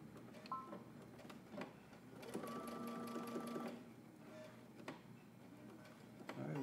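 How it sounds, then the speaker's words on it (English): Sewing machine runs in a short steady burst while top stitching swim trunk fabric, with quieter clicks and handling around it in a quiet room. "we're going to top stitch and back stitch at the beginning and end."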